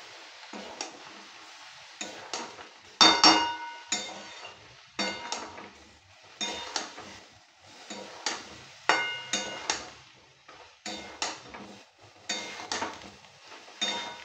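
Spoon scraping and clinking against a pot while a Bengali echar rani (jackfruit) dish is stirred over low heat, in a steady rhythm of short strokes with brief pauses, close and fairly quiet, with no talking.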